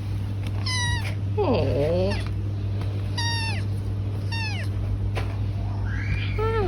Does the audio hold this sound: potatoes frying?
no